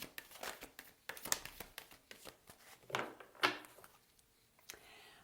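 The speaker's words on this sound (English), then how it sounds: "Last shuffle." Tarot cards being shuffled by hand, a run of quick papery riffles and soft slaps in close, irregular bursts over about five seconds, with no talking.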